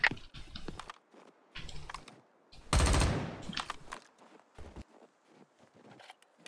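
A loud burst of automatic rifle fire in the shooter game XIII Remake, erupting mid-clip for about a second and trailing off, surrounded by scattered short clicks and footstep-like taps.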